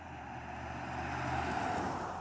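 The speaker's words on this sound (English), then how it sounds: "Let's take this thing on the road and see how it is to drive." A 2022 Jeep Wagoneer, electric-motor-assisted, drives on the road, heard from inside as a steady low engine and road hum with a faint rising whine, continuous and moderately quiet.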